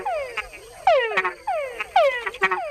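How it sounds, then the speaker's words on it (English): Male frogs in Panama give repeated calls that each open with a sharp whine and drop into descending chuck notes, about four calls in under three seconds, close and loud against a quiet background with no talk. "Male frogs make the added chuck sound to attract females."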